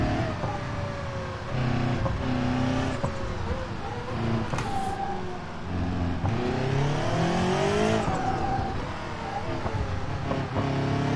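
A sporty car in a BeamNG.drive racing game runs with a high, rising supercharger or gearbox whine over engine drone, pitch sweeping up and down with revs across several accelerations, loud and continuous.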